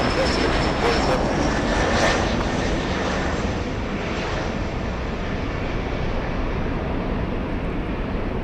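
An Embraer E-175 jet roars down the runway on takeoff at LAX, a loud, steady broadband engine rush filling the whole stretch without letup.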